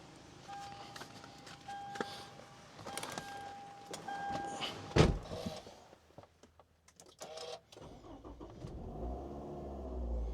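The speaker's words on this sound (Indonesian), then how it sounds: "Kita coba nyalain mesinnya ya, biar kedengeran mesinnya." 2012 Toyota Alphard G engine starting: chimes and clicks, then the starter cranks and the engine catches into a steady low idle nearby, with no talking.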